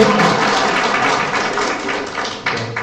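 Congregation clapping in a Catholic church, a dense, loud wash of many hands that fades slightly over a few seconds, with a sharper clap near the end.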